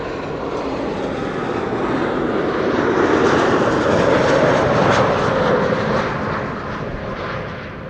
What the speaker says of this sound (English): That's KLM flight 1918, Embraer 190 arriving from Zurich.